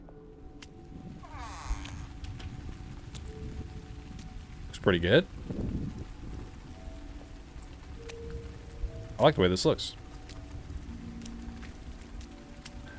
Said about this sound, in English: Rain in video games.